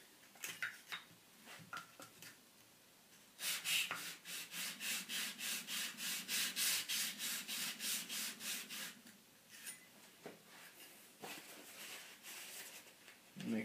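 A steel card scraper edge is trued on a file with a steady series of about fifteen rhythmic rasping strokes, close and fairly quiet, with softer handling sounds before and after.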